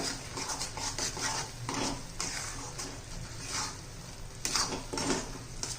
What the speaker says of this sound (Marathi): सर्व मसाले आपण मिक्स करून घेऊया